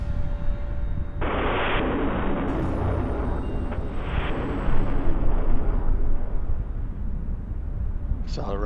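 Space Shuttle Atlantis's twin solid rocket boosters burning during launch, a continuous heavy rumbling roar with crackling surges, loud and sustained, with a narrator's voice over it.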